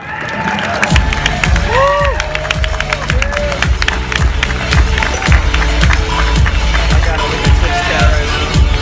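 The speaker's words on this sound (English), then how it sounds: "Give them a round of applause" A crowd applauds and cheers at the TwitchCon 2016 after party as a team of streamers comes out, a loud continuous roar of clapping and shouting with thumping music underneath.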